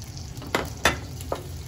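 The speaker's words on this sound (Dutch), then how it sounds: "De olie is goed warm. We voegen nu de spekjes toe." Bacon bits sizzling and crackling in hot oil, with a few sharp pops standing out over a steady frying hiss, close by.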